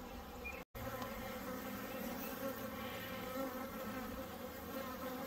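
Honeybees from a newly installed package hive hum in a dense, continuous buzz close by, with no voices, briefly dropping out for an instant near the start.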